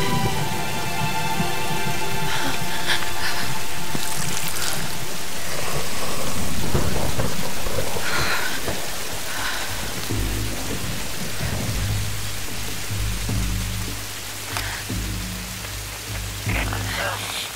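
Steady rain pours throughout while deep thunder rumbles and rolls in the background, loud and close, with no one speaking; rain and thunder in the video game Tomb Raider.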